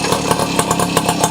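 Motorcycle engine just kick-started and running, a loud, close, rough pulsing putter with a steady rapid beat throughout.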